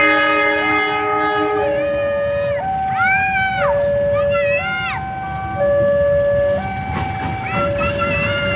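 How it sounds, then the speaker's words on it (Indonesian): A train horn sounds in long, stepped tones while a heavy freight train rumbles past from the east, with chirpy electronic warbling layered over the steady roar. "Dari arah timur, kereta barang."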